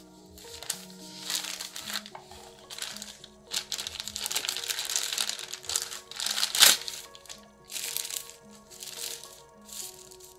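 Kenzo glasses packaging being opened, with close crinkling and rustling in uneven bursts and one sharp crackle midway, plus faint background tones and a little quiet talk.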